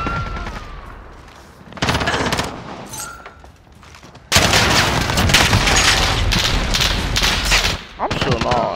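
Loud bursts of automatic and single gunfire in a hardcore Call of Duty match on the Shoot House map, coming in clustered volleys with short lulls, with brief game voices mixed in.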